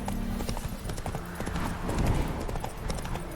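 Horse hooves clip-clop steadily across ground in The Witcher 3: Wild Hunt, Hearts of Stone expansion, a continuous close trotting rhythm amid game ambience, with a brief whinny-like note.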